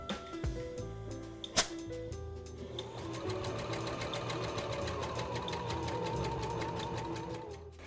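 A sewing machine runs a pocket understitching seam, a close rapid mechanical stitching chatter starting after a few quiet clicks and a sharp tap, then running steadily to the end.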